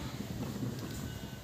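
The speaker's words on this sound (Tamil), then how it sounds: "காற்று அடிக்குது, அடுப்பு எரிய விடாமல்." Wind blows across an outdoor home cooking stove, a low steady rumble buffeting the microphone for a brief moment with no one speaking.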